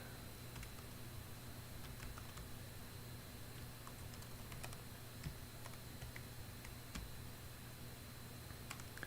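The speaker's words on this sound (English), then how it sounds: "I don't know if you can hear the typing on the microphone, but it's kind of a soothing typing sound." Quiet, steady clicking of keys typed on a laptop keyboard (an ASUS ROG Zephyrus G15, 2021), soft irregular taps over a constant low hum with no talking.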